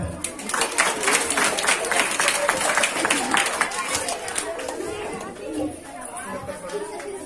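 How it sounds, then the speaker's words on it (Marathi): A crowd at a Shiv Jayanti celebration event in Nanded applauds in a sustained ragged wash of clapping, with chatter and crowd noise running underneath. "पुनश्च एकदा तिच्यासाठी टाळ्या."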